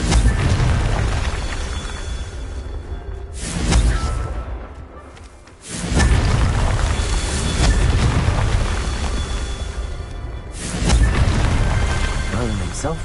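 Confringo fire spells blasting in the video game Hogwarts Legacy: a run of loud, close, rumbling explosive booms, with fresh bursts near the start, middle and end and a continuous roar of debris and effects between them.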